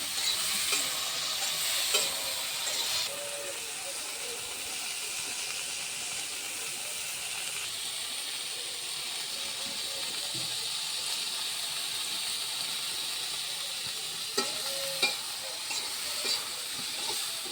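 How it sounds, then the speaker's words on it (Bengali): Tikka fish frying in a pan, a steady, fairly faint sizzling hiss that holds for the whole stretch, with a few light clinks and scrapes near the start and end, heard close without any talking. "চলো এটা ভেজে নিই"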